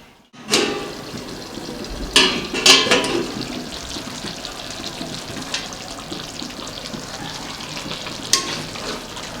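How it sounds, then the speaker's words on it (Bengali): Chicken chaap cooks in a covered pan as the lid comes off with a clatter and a spoon stirs, giving a few sharp metallic knocks over a steady close sizzle, with no talk. "এরকম ঢাকা মাঝে মাঝে খুলতে হবে আর একটু নেড়ে দিতে হবে।"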